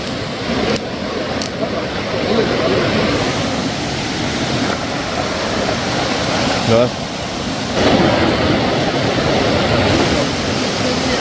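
Steady, dense rush of a mountain river filling the whole clip, loud and continuous with slight swells, like a fast stream close by.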